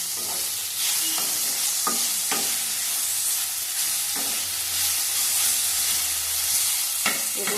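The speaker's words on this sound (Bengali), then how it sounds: "আস্তে আঁচ কমিয়ে কমিয়ে ঢেকে ঢেকে ভাজতে হবে" Food frying slowly in a pan on low heat, a continuous loud hiss and sizzle with occasional utensil scrapes and knocks spaced a second or so apart, and no talking.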